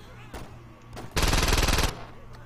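A shotgun fires in the video game Saints Row 2, giving a loud, dense burst of close gunfire of about a second after a few fainter thuds.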